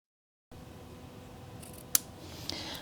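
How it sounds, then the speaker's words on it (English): Scissors snip ribbon on a Valentine card tag at a kitchen table, a soft rustle followed by one sharp close cut and a smaller second snip. "now we can trim the ribbon just a little bit"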